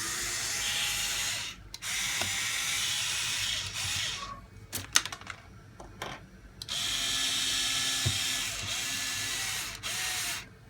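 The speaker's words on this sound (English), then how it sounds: "take a smaller driver and pull out this grub screw in the skid for our lower links" Small hex driver works a grub screw out of the skid plate of an RC rock crawler, close mechanical whirring in long steady bursts broken by small clicks and taps.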